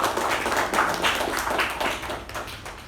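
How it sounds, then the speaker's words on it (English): Applause from an audience at a meeting session: a crowd claps steadily for a few seconds, a dense patter of many hands that slowly thins and softens toward the end. "A round of applause for the first session."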